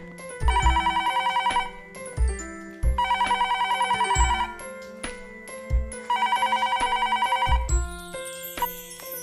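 A telephone rings in three trilling bursts with pauses between them, loud and close, with soft background music underneath.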